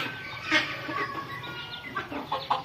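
Chickens cluck in short, scattered bursts at close range, a few hens calling over one another against a faint background hum, in a Punjab village in Pakistan.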